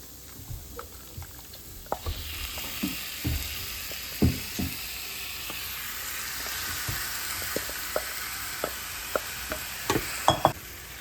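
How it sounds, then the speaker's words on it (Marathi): Raw chicken hits hot Kolhapuri-style masala in a pan and starts a steady, broad sizzle that swells after a few seconds, with scattered clinks and scrapes of a spoon stirring throughout, close and without talk. "मी आता टाकते यात चिकन"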